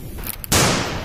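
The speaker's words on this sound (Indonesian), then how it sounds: "Wah, shotgun." A single sharp toy gun blast bursts out loud and close, its broad noisy burst trailing off over the next half second.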